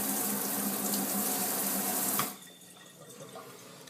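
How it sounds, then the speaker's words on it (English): An Innokin iClear 30 vape tank rinsed under a running tap, a steady loud rush of water over the first two seconds that then drops off to a faint trickle and drips, with no talking. "Give that a good rinse off."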